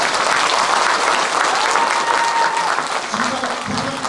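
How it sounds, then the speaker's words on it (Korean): Dense, steady crowd applause fills the opening ceremony of a county folk pungmul (farmers' percussion) contest in Okcheon, Korea, staying loud and continuous throughout, with a voice faintly audible beneath the clapping. "한번 큰 박수 부탁드리겠습니다"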